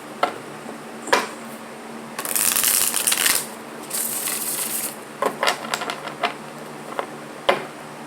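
Tarot cards shuffled by hand in a quiet room, several bursts of brisk riffling and flicking with short pauses and a few sharp card taps between them, close and moderately loud.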